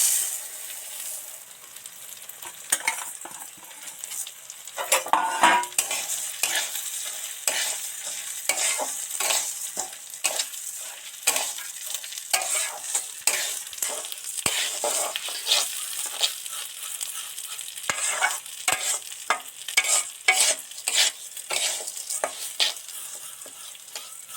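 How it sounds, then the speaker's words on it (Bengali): Lentils fry in a wok with a constant oily sizzle, punctuated by repeated scraping and clicking strokes of a stirring spoon, close and busy throughout. "ওই যে ডালটা তেলের মধ্যে তুলে দিচ্ছি"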